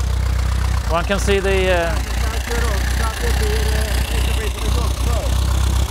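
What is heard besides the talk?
1920 Henderson 1300cc four-cylinder motorcycle engine running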